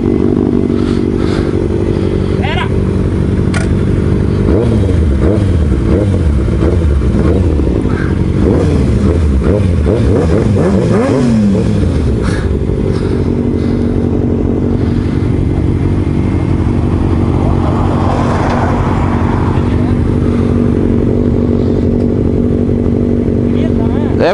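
A Kawasaki ZX10 motorcycle is ridden in traffic, its engine close and loud. It revs up through rising gear pulls in the middle, then settles to a steady drone while people talk over it.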